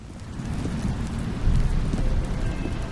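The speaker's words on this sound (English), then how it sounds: "Ooh, rain, ambiance." Steady rain pours in the Stanley Parable Ultra Deluxe video game, a dense, close patter of drops on surfaces with a low rumbling undertone that swells slightly midway and continues without a break.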